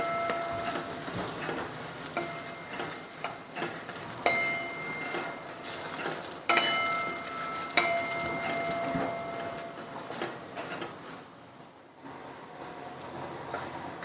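Gatte, Rajasthani gram flour dumplings, sautéing in a pan, giving a steady soft sizzle with scattered light clicks and stirring taps throughout, close and moderately quiet, no talking.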